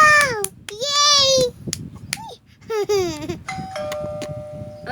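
A doorbell sound effect chimes in a few clear electronic tones, with a baby's babbling and squealing voice mixed in close by and imitating it.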